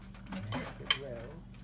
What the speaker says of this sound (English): Mix it. Mix it well.